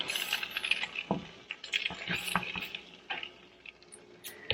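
Frozen pierogi sizzle in butter in a warped pan, with a continuous crackling hiss broken by scraping, tapping utensil sounds and occasional knocks against the pan.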